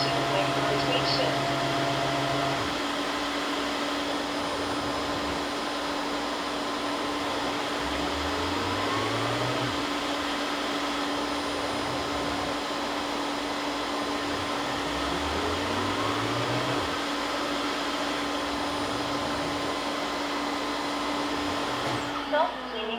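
A Roborock F25 ACE wet-dry vacuum runs its self-cleaning cycle, soaking and scrubbing its roller with a steady motor hum and repeated rising mechanical whirs, while a recorded voice prompt speaks at the start.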